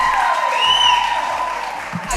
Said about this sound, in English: clap it up, clap it